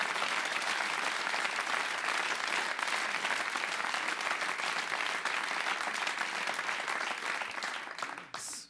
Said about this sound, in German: Kleinen Applaus nochmal